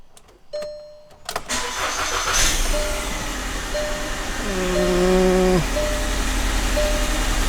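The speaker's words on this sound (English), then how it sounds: "I'm going to give you my reaction to starting up the car and seeing if it works" Car engine restarted after an alternator repair, which cranks with a few sharp bursts, then catches and settles into a loud, steady close-up run with a slight wavering tone; no one speaks.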